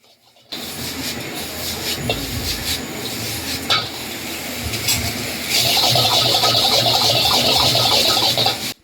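Chicken tossed with salt, white pepper, black pepper and Kashmiri chilli powder at a Chinese-style street food stall, with steady scraping and stirring against a metal pan and clinking utensils that grow busier and louder toward the end.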